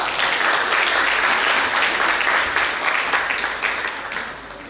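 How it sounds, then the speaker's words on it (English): Audience at a college seminar applauding after a traditional Khasi performance, a loud sustained round of dense clapping that tapers off slightly toward the end. "let's give them a warm round of applause."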